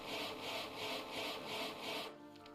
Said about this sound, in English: What are you sawing, madam?